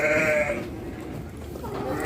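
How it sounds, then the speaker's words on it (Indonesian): A sheep at a farm bleats once, a wavering nasal cry at the start, followed by farmyard background noise. "Ada domba."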